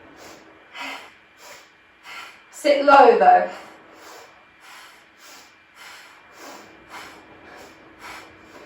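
Rapid, forceful Bhastrika yoga breathing in a group class: rhythmic, sharp nasal breath bursts repeat steadily, with one louder, harsher exhale in the middle. An instructor speaks throughout.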